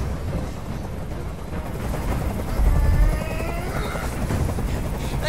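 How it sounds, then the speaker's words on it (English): A video game helicopter's rotor in Detroit: Become Human thumps and whirs loudly and continuously, with faint crackling bursts like distant gunfire mixed in. "I can't stand that noise anymore. Tell that helicopter to get out of here."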